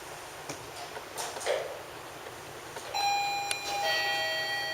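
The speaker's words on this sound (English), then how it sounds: "This is a doorbell alarm that has a flashing light attached." A chime-like electronic doorbell alert with a flashing light rings out, a bright steady tone with several high harmonics sustained for a couple of seconds after some faint clicks.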